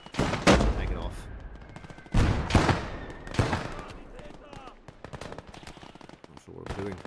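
Mortar and gunfire in the World War II video game Gates of Hell Ostfront: several loud, sharp blasts about a second apart, each with a rumbling decay, and lighter shots between them.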